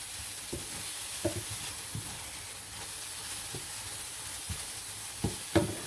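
Egg and tuna stir-fried dry in a pan, giving a soft steady sizzle with occasional scraping and stirring knocks of a utensil against the pan, close and moderately quiet with no talking.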